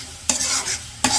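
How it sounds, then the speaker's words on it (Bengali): Spices for beef curry sizzle and fry in a pan while a spatula stirs them, two sharp scraping strokes over a continuous close hiss, with no voices. "মশলাগুলো কষে নিই"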